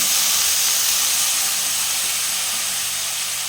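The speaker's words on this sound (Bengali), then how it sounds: "একটু আমি জল দেব মশলাটা ভাজার জন্য।" Water hits frying spice paste of coriander and Kashmiri chili powder in a hot kadai, giving a loud, steady steamy hiss that fades slightly over a few seconds.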